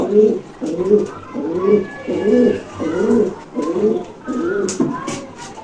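Pigeons coo in a steady, repeated rhythm, soft throaty phrases following one another closely for several seconds.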